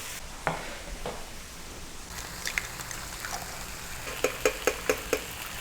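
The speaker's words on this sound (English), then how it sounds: "The griddle has been oiled up, and now it's time to place the bacon on there and then the eggs." Bacon and eggs on an oiled Drew Barrymore griddle: a low, even sizzle with scattered crackles and pops, plus a run of quick tapping clicks toward the end, likely utensils against the griddle.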